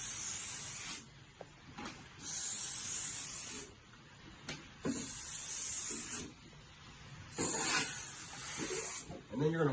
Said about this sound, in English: And you're going to spray that joint out.